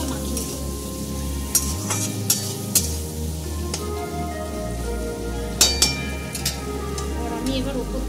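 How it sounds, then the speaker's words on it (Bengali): Shrimp with onion, Kashmiri chili and ginger-garlic paste sizzles in a pan for a Bengali prawn kalia, frying crackle under a low steady hum, with a few sharp utensil clinks against the pan. "ভালো করে চিংড়ি মাছের সঙ্গে পেঁয়াজের সঙ্গে পুরো মশলাটা মাখিয়ে দেব"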